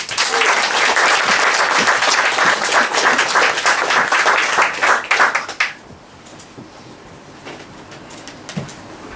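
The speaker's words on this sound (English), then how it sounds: "Please give a big round of applause" A crowded poetry slam audience bursts into loud, sustained applause with dense clapping for a performer, then the clapping stops abruptly, leaving a quiet room with a few faint scattered sounds.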